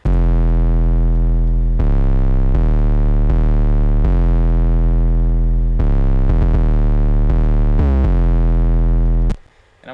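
Heavy distorted 808 bass notes in FL Studio 12 play a repeating pattern alone, thick and gritty with buzzing overtones, each note sliding and sustaining before cutting off near the end.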